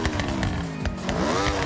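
The Honda Beat's small engine revs hard in the racing game Forza Horizon 6, a buzzy, high-pitched whine that climbs and falls quickly with no break.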